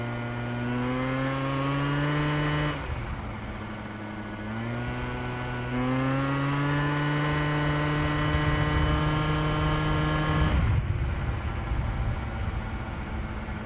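A Yamaha Jog 70cc two-stroke scooter runs at speed, its buzzing engine climbing in pitch through three long rising runs with brief drops between, loud and close with wind rush, no talk.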